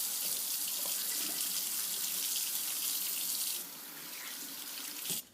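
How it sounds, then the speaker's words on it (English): Tap water runs steadily into a sink for handwashing before cooking, a continuous close hiss that drops slightly in level near the end before the flow shuts off. "we've got to wash our hands."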